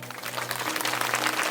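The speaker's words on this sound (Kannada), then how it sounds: "ಹೊಡೀರಿ ಚಪ್ಪಾಳೆ" An audience at a New Year sermon claps in a short, fairly faint burst of steady applause, heard at some distance.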